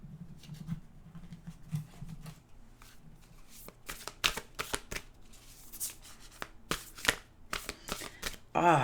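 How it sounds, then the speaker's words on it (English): A deck of oracle cards being shuffled by hand: a soft rustle, then a run of crisp, quick riffling bursts, close and fairly quiet, with no talking. "We'll get an oracle card."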